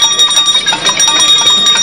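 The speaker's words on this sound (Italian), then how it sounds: "Per chi suona la campana, per chiedere le dimissioni di Berlusconi." A bell is rung repeatedly and loudly at a street protest in Palermo calling for Berlusconi's resignation, with a steady fast clanging that continues throughout at close range.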